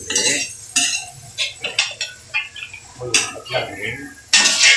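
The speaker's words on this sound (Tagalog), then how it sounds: "Haluin mo na. Haluin." Spoon scraping and clinking against a cooking pot as mung beans are stirred, a few distinct knocks and rubs spread across the moment, close by, with a voice talking over them.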